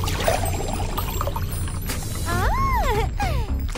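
Water poured into an empty jar, a steady pouring gush with a trickling edge running through, joined near the end by sweeping whistle-like tones over the flow.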